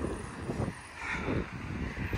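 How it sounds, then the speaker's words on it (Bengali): Strong wind on a street in Long Beach, New York, buffets the microphone with a steady low roar that rises and falls in gusts, with no voices. "কিন্তু অস্থির আকারের বাতাস অনেক।"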